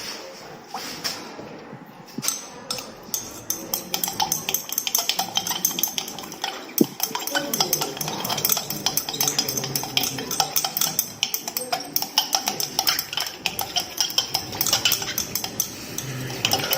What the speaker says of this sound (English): Now this mixture is properly stirred for 5 minutes.